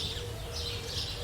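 A flock of house sparrows chirping together, a steady busy chatter of overlapping calls at moderate distance, without talk.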